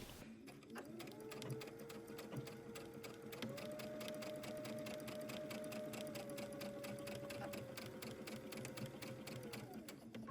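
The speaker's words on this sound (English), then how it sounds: "we're going to start stitching with a back stitch from that point all the way up to the top edge of the skirt" A sewing machine runs a long continuous seam with a back stitch on a McCall's summer dress skirt, a steady close mechanical whir with a rising motor tone that holds for about nine seconds.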